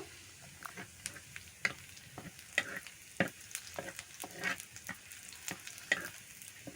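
Amude fish and chopped onions frying in oil in a wok: a soft sizzle punctuated by repeated clinks and scrapes of stirring in the pan, close and fairly quiet, no talking.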